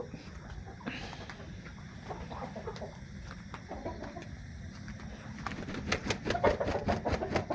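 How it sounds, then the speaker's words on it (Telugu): Laying hens cluck at a poultry farm, a steady flock chorus with scattered sharper calls that grows busier and louder toward the end, no talking. "ఇప్పుడు ఇవన్నీ పెట్టలన్నీ గుడ్లు పెడుతున్నాయి."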